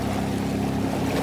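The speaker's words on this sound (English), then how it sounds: "I have a lovely French chap who's now towing us with his 6 horsepower engine." Small boat under tow by a 6 horsepower outboard engine, with a steady low motor hum and water wash running continuously, close and moderately loud, with no talk.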